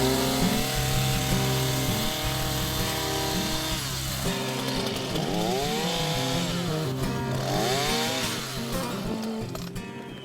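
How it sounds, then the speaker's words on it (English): An Earthquake chainsaw cutting tough garden corn stalks runs close and loud, its engine revving and bogging as it works through the stalks, then easing off near the end. "Anytime you use an Earthquake chainsaw"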